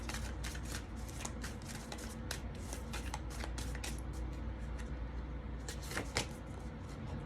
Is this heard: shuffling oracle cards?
yes